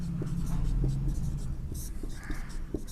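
Chalk or marker scratching across a board during a geography class, in short irregular strokes over a low steady hum.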